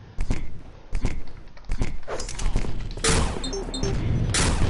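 Rocket launcher fire in the arena shooter OpenArena, with repeated sharp blasts and explosions, quick footsteps and electronic game sounds, loud and busy with a voice talking over it.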